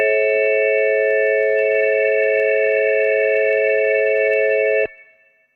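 A Behringer DeepMind 12 synthesizer routed through a rack amp with dual pitch shift and plate reverb holds a loud, steady, bright chord for nearly five seconds, then cuts off sharply, leaving a short reverb tail.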